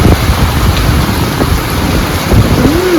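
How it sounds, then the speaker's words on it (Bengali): Heavy rain pours down steadily and loudly, a dense hiss of drops drumming on surfaces with no voices. "আর দেখো বাইরে কিরম বৃষ্টি হচ্ছে"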